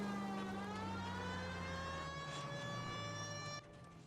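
A police car siren wails in a period crime game set in Los Angeles, sliding tones sweeping down and holding steady, fairly faint and alone before it cuts off near the end.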